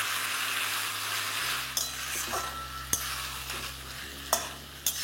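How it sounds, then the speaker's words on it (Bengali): Potato pieces being stirred and sautéed in a pan with onion and ginger-garlic paste give a steady sizzle, with a few sharp spoon-on-pan clinks scattered through. "এবার 3 থেকে 4 মিনিট আপনাদের আলুটাকে ঠিক এইভাবেই কষিয়ে নিতে হবে"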